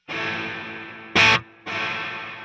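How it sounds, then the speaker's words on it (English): A distorted electric guitar through a Tonex with reverb pre-delay: a sustained struck note, then a short louder burst, then the tone swelling back in after a gap, close and alone. "We can adjust the pre-delay so that the delay doesn't actually kick in until a certain amount of time after we strike the note."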